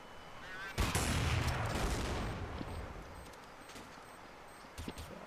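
Gunfire in a competitive first-person shooter match, with a loud burst of shots and a sharp rifle crack up front, then fading reverberation and a few later shots under quiet commentary.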